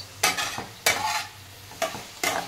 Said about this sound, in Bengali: সবজিগুলো ভাজা শুরু করে দিয়েছি।